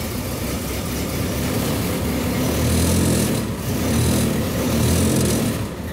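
A 1928 Ford Model A engine runs at a steady idle, a continuous low mechanical chug with a light rattle, close and even for several seconds.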